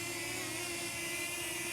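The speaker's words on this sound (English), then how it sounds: "So here's the drone. I'll put it really close to my mic." A DJI Flip mini drone hovering right beside the microphone gives a steady, close, high-pitched propeller whir with a constant tonal hum underneath, alone and unbroken.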